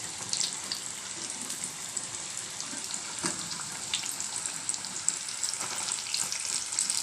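Pumpkin bhaji bubbles and sizzles steadily in hot frying oil, a continuous crackling hiss at close range with occasional louder pops, with no talking over it.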